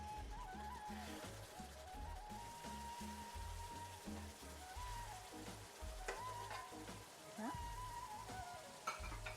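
Lamb pieces brown in a hot pan for a Pullao d'Agneau, giving a steady sizzle and frying hiss with occasional stirring scrapes, while someone talks over it and faint tonal background sounds run throughout.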